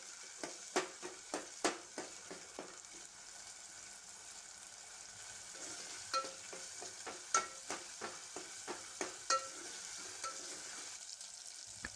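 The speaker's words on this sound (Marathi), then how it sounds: "हे सर्व मिश्रण एकजीव होईपर्यंत त्याला परतून घ्यायचंय." Fenugreek and moong mixture being sautéed in a pan, with steady sizzling broken by repeated sharp spatula taps and scrapes as it is stirred, close and clear with no talk.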